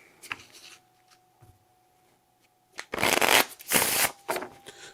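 Playing cards from a solo board game are shuffled back into the deck, with a few soft handling ticks followed by loud, close bursts of riffling cards in quick successive rounds.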